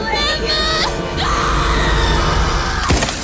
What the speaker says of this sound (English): After the last scream,